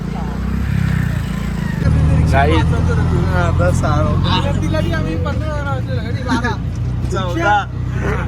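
Auto rickshaws and other road traffic rumble steadily near a hill temple at Saptashrungi or Trimbakeshwar, with engine drone and horn-like tones under constant nearby chatter and crowd babble.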